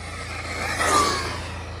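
An Arrma Granite Grom RC truck with a Spektrum 4500kv motor and 30 amp ESC accelerating, its electric whine rising to a peak and fading as it passes close by within a couple of seconds.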